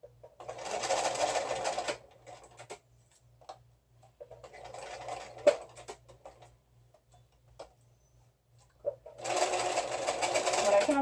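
A sewing machine stitches a pleated surgical-style mask with a filter pocket and nose wire, whirring in steady bursts at the start, briefly mid-way and again at the end, with a soft low hum and small handling clicks between runs.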